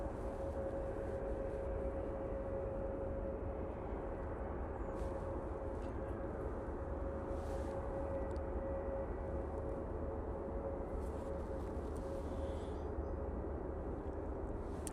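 Virgin Atlantic airliner on a full-length takeoff run at Manchester Airport, a steady, distant broadband jet roar with a faint sustained tone, constant in level throughout.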